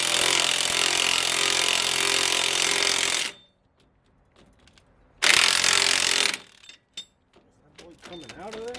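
A power tool works a bolt on an S10 Blazer during a lift kit and brake install, with a loud rattling, hammering burst, a pause, a second shorter burst, and then a few scattered clicks and knocks.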